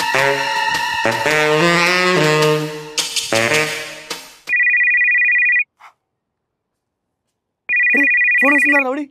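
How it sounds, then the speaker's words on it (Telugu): A mobile phone ringing with a steady electronic ringtone, two loud sustained bursts separated by silence, preceded by musical tones and followed by a brief rising melodic tone pattern. "ఫోన్ వస్తుందిరా"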